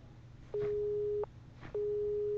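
A phone busy signal in the horror game The Crooked Man, heard as two long, steady electronic beeps separated by a short gap. It is clear and alone over a low background hum.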